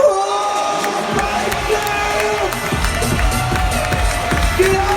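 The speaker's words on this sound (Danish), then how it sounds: "Vi skal have gang i nogle klapsalver her." Large arena crowd at Supercross Herning cheering and shouting loudly, a dense sustained roar of voices with scattered whoops throughout.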